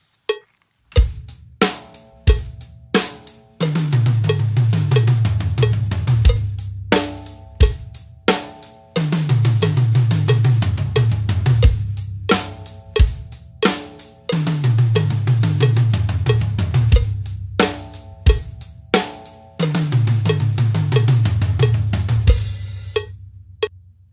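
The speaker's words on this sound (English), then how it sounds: "if you have a 5-piece kit, you're going to use your 3 toms for this one. Sounds like this." Drum crossover pattern played around three toms of a five-piece kit, with sharp accent hits and busy repeating tom phrases cycling in loud close bursts, separated by short gaps.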